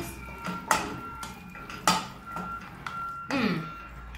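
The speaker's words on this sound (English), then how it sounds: "a really good stir for it to sink in" A meatball mixture with paprika, garlic powder and onions stirred in a pot, with a few sharp clinks and scrapes of a utensil against the metal amid quieter stirring, up close, with a voice faintly in the background.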